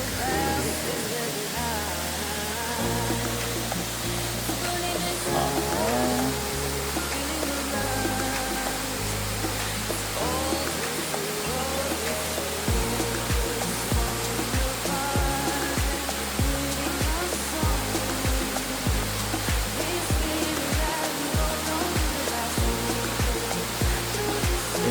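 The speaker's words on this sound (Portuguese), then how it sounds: "Quase perto da cachoeira." A waterfall near a forest trail in Brazil gives a constant broadband rushing roar. It stays steady and even for the whole stretch, heard alone with no talking.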